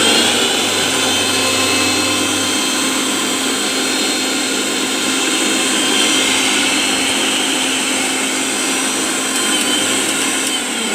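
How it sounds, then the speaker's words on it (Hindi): A Bajaj mixer grinder runs after being rewired, its motor giving a loud, steady high-pitched whine and whir that continues evenly for about eleven seconds with no speech. "देखिए हमारा मिक्सी चल रहा है, स्टार्ट हो गया है।"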